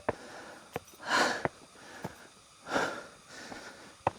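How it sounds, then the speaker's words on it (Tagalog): A solo motorcycle rider pants heavily on a quiet rural hill near Rizal, two long rasping breaths with sharp sniffs and clicks between them, close and alone. "At saka yung hingal ko pala."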